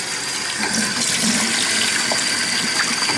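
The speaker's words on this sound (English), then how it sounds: "So, because I got the water going," Tap water runs steadily into a sink, rinsing a piece of aquarium driftwood being cured, a continuous loud splashing hiss with no talk.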